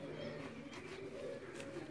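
A white-eyed Teddy pigeon on a rooftop loft coos in a low, steady, continuous murmur, with faint background noise and no clear talk.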